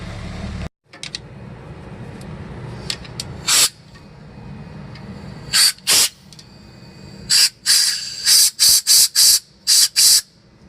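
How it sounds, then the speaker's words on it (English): Compressed air hisses loudly out of a nozzle to blast loose debris from a Toyota Tundra brake caliper: a long opening blast, then a string of short, sharp bursts, close and harsh, with no speech. "we'll blast it out with some air"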